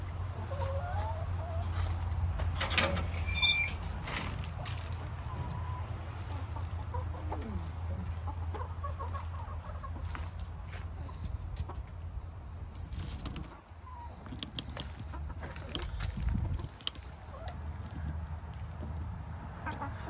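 Chickens cluck steadily in a backyard coop on a half-acre homestead, with occasional louder squawks and a brief crow-like call early on, a continuous close farmyard chatter with no talking.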